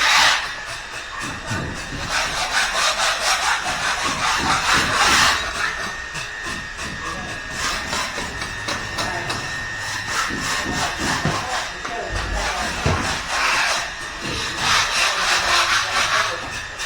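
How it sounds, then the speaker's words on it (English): Workers sand down wood during an interior house build-out, making continuous rasping strokes that swell and fade in a loose rhythm, close by and without talk. "Guys are sanding down."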